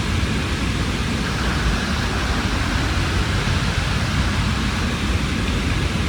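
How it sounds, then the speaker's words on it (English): Water trickling along a historic stone-walled canal feeder channel by the River Dane, a steady broadband rushing wash that holds close and constant throughout with no voices. "this little bridge here is over the feeder channel, which you can see now is just a trickle"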